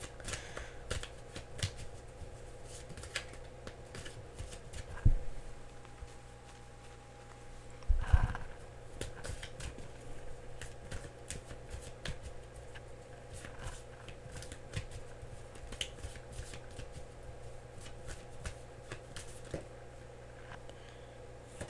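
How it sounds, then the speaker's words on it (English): Tarot cards are shuffled over and over with a soft, rapid riffling, a couple of sharper taps standing out; quiet and close, no talking. "I have to shuffle for a bit here,"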